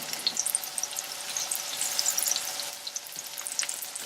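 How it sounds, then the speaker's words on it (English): A cod fillet frying in hot oil in a pan, a bright close crackling sizzle with dense spattering pops throughout. "Place the cod fillet into the pan and allow it to cook for 1 to 2 minutes on each side"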